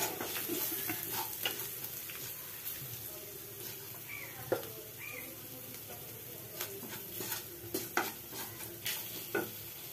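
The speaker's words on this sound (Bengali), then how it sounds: "দিয়ে এবার এই মশলাটাকে আমি একটু কষিয়ে নেব।" Spice paste of ginger, chili and turmeric frying in a pan for a banana-flower ghonto, a steady soft sizzle broken by scattered scraping stir clicks and taps, close and moderately quiet with no talk.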